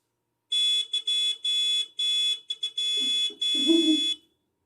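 A motorcycle horn gives a series of short, loud, bright electronic honks in uneven bursts, with a brief low rumble mixing in toward the last blast.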